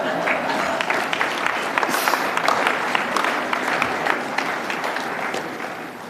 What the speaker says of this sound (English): Part of that applause, I think, was appreciation